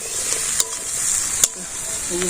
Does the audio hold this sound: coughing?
no